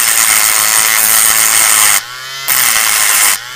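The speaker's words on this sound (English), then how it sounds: "I've put a little sander on there, and what I'm going to do is just sand this down" A small power sander grinding down a metal part, a loud steady whirring buzz that cuts off briefly twice, close up with no talking.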